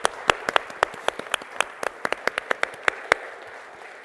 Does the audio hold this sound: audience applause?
yes